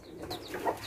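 A hen clucks at a humble rural home with chicks around, a few short, soft throaty clucks in quick succession, close by and with no talk over them.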